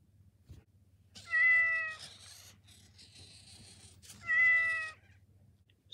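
A Metacat robotic pet cat meows twice as it powers up from standby after being stroked, two clear, fairly close electronic meows about three seconds apart over a faint low hum.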